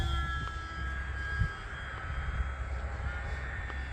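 A small radio-controlled UMX Pitts biplane flies at half throttle, its steady electric motor and propeller whine droning faintly and evenly at a distance outdoors.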